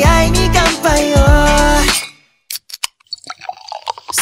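Glasses clink together in a toast, a bright run of short chiming taps and rings sounding alone after sustained music stops.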